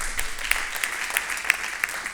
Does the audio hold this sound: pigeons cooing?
no